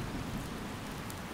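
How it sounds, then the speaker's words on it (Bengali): Rain falls without pause, a soft, even hiss of drops that stays faint and unbroken, with no voices. "অনবরত ধারায় ঝরে পড়ছে বৃষ্টির অবিশ্রান্ত ধারা"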